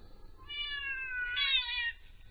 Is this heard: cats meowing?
yes